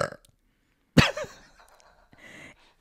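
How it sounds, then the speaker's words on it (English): A single loud, close burp erupts after a brief silence, followed by quieter breathy sounds and faint voices. "You're allowed to burp on here."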